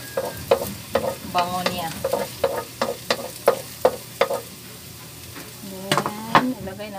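Ginger frying in a pan of oil for fish escabeche, a steady sizzle broken by repeated sharp clinks of a utensil stirring against the pan, with a brief spoken remark near the start.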